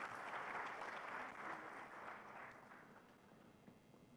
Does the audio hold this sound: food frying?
no